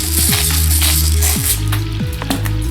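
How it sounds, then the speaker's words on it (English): Chicken thighs sizzle skin side down in a hot pan, with a loud, steady frying hiss and a few wet pops and squishes from handling, close up. "we're going to put it skin side down, and we're going to cook it for approximately 6 minutes till the skin is a little crispy"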